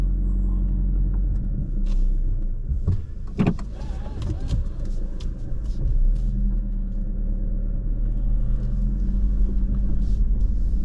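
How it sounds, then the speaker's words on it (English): A car driving slowly along a rough, grassy farm-field road in North Dakota, a steady low rumble of tyres and cabin vibration with occasional rattles and knocks, heard from inside the vehicle. "This is like driving through a farm field."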